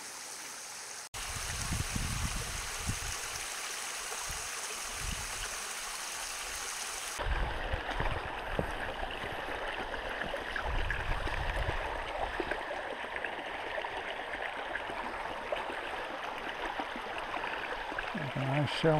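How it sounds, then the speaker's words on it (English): Greasy Creek in the Hurricane Creek Wilderness rushes and babbles steadily, a continuous broad wash of flowing water close by that grows fuller and louder partway through, with faint thumps of movement near the start. "The mighty Greasy Creek."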